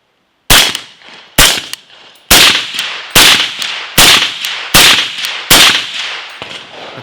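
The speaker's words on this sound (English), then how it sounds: "this thing is not only rated for 300 blackout subsonic, it's actually rated for 300 blackout supersonic" Seven sharp, loud suppressed supersonic 300 Blackout gunshots through a Griffin Optimus silencer, fired at a steady pace roughly a second apart, each crack followed by a short echoing decay, with no voices.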